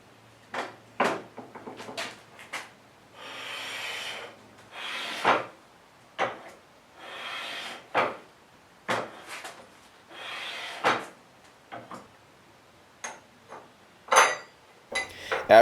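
Weighted rig slides back and forth over a coated sample on 220 grit sandpaper, producing repeated rough scraping strokes in an irregular rhythm, close and moderately loud, with knocks and clunks between passes.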